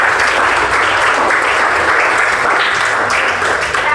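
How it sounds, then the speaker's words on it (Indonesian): A classroom full of students applauds together in a dense, loud burst of clapping that stays steady for several seconds at close range. "Kita kasih aplaus dulu untuk kita bersama ya"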